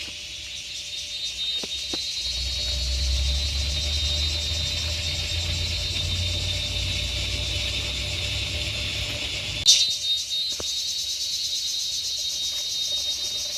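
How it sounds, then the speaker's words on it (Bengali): Crickets trill in a steady, high, unbroken chorus at a hill resort about 1,800 feet up in Bandarban, with a low rumble underneath and a brief knock near the end. "এখানে সারাক্ষণ ঝিঝি পোকার ডাক শোনা যায়।"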